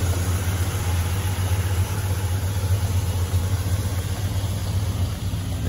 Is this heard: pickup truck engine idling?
yes